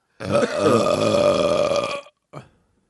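A single long, loud, deep burp rumbles close up for nearly two seconds, followed by a brief short gulp of sound after a pause.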